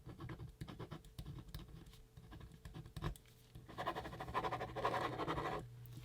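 Pen scratching across waterproof Write in the Rain paper on a Battle Board armband, giving a close, dry scraping that comes in short strokes and grows denser and louder toward the end as the tip struggles to lay ink.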